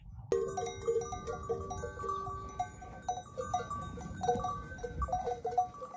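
Several bells clank steadily amid a flock of sheep and goats, with faint bleating and animal shuffling in the background.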